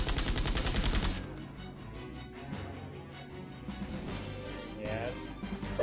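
Gunfire in the role-playing video game Septerra Core: a rapid, rattling burst opens the moment, then gives way to quieter battle effects and scattered impacts.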